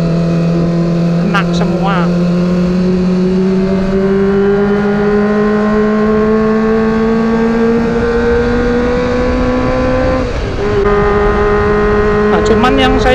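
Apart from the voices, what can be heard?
Kawasaki ZX25R four-cylinder motorcycle with aftermarket exhaust revving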